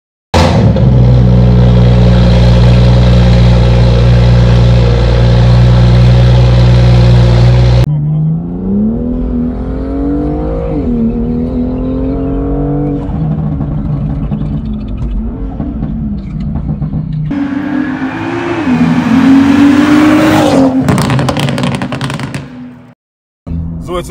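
A loud BMW M2 F87 engine idles, then revs and pulls away with rising and falling pitch as gears change, voices talking faintly over the drone.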